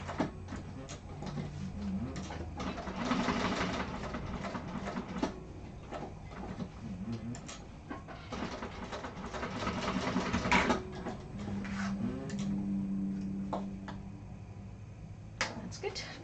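A sewing machine top stitches the bottom edge of a fabric wallet in bursts of rapid mechanical stitching, stopping and restarting, with a voice talking in between runs indoors.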